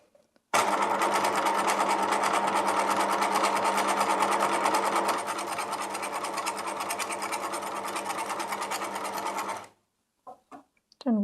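A sewing machine stitches straight along fabric edge in one long, steady, loud run of close mechanical whirring, cutting off abruptly near the end with a few small clicks afterward.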